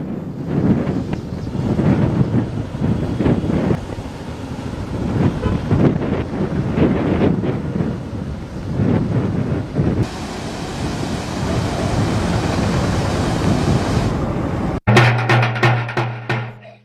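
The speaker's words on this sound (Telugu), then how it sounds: "భారీ వర్షాలు ఉన్నాయి." Heavy monsoon rain and rushing flood water in Adilabad, near the Godavari, form a loud, continuous broadband roar with gusting wind buffeting the microphone, then break off abruptly near the end.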